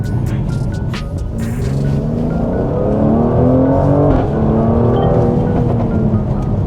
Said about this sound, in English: The exhaust is really loud,